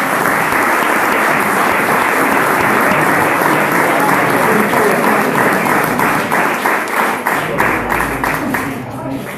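Loud applause from the audience at a homebrew beer competition award ceremony, a thick, sustained roar of many hands clapping that stays strong, then thins into separate, more distinct claps near the end.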